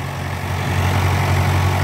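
A Mahindra Arjun 605 DI tractor with a 7-foot super seeder attached runs without load, producing a loud, steady low diesel drone that swells slightly and then holds constant, close up, with no voices.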